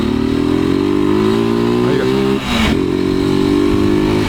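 Motorcycle engine with a 4mm overbore, running rough and making a strange noise, idling loud and close with a steady harmonic drone that dips briefly midway before settling back.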